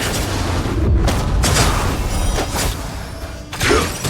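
Detonation blasts in the Honkai: Star Rail game, several loud booming bursts in quick succession over a dense roar of effects, with a final punchy hit near the end.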